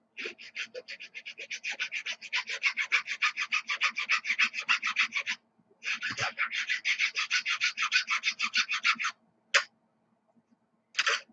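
A blade scrapes shavings off the edge of a plastic RC car body in fast, close, rhythmic rasping strokes, with a short pause partway through and a few single scrapes at the end.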